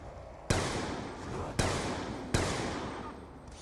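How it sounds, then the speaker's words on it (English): Three sharp gunshots from the Black Ops 2 Zombies video game, each with a sudden loud crack and a long decaying echo, spaced roughly a second apart. "I shot at the close guy and hit the guy behind him"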